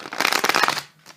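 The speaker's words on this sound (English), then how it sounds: "Now it's the shuffling. Oh, cards flying out." A deck of tarot cards being shuffled up close, a dense rapid riffling flutter lasting most of a second before it falls quiet.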